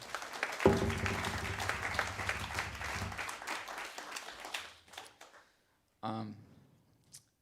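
Audience applause at a jazz chamber music concert, a burst of clapping that swells and fades over several seconds before a short pause and a brief voice.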